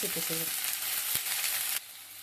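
Onion and curry leaves frying in hot oil in a pan, a steady close sizzle with a few spoon stirs, dropping to a softer hiss near the end.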